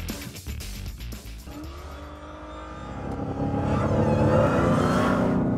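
Dodge Hellcat with a high-horsepower engine in track drive mode, accelerating hard along a track; the engine note climbs steadily and grows louder as it builds speed, with no talking.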